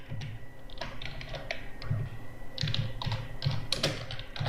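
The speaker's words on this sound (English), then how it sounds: "now I'll use except block, and here I'll type a message" Typing on a computer keyboard as an error message is entered into Python code, a close, steady patter of keystrokes with irregular clusters and brief gaps, no voices over it.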